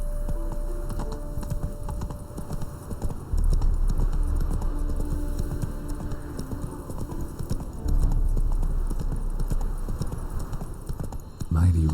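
The horse Roach gallops in The Witcher 3, with rhythmic hoof clip-clops running throughout, close and clear, and heavier thumps in a couple of bursts.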